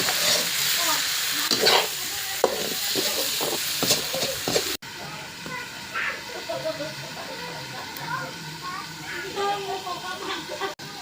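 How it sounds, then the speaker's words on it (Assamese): Meat sizzling and hissing in a hot pan, with clacks of a spoon stirring; a voice talks over the frying partway through. "মই জুইত মাংস বনাই আছোঁ ব্ৰইলাৰ মাংস"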